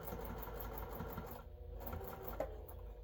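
A sewing machine stitches slowly over folded, nested quilt seams, its motor humming steadily with a soft, rapid mechanical chatter, close and fairly quiet, with a few brief pauses.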